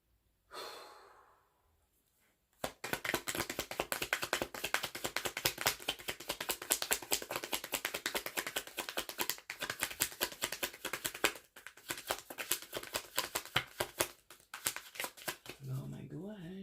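A deck of tarot cards being shuffled by hand, with dense riffling and sliding card noise running nearly continuously and close up, after a brief opening breath and pause.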